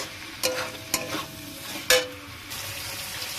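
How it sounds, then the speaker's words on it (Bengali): Raw prawns being stirred into spice paste in a hot pan, with three distinct scraping stirs of a spatula over a continuous soft sizzle. "কাঁচা মাছগুলো এই মশলা করার মধ্যে আমি দিয়ে দিলাম। এবার দিয়ে একটু নাড়াচাড়া করবো।"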